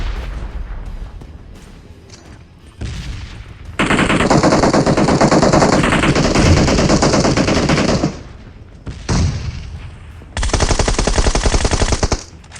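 Automatic gunfire in a PUBG Mobile firefight: long, loud bursts of rapid shots, each lasting several seconds and broken by brief pauses, with heavy, sustained rattling and no talking.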